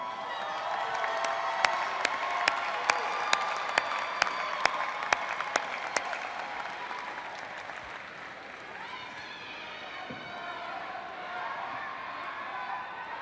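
Graduation audience at an undergraduate commencement ceremony breaking into sustained applause with scattered cheers and whistles, a dense crowd sound that slowly fades.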